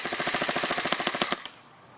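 A JG M5-S6 airsoft gun fires a rapid full-auto burst of sharp, evenly spaced clacks for over a second, then stops and leaves faint room noise.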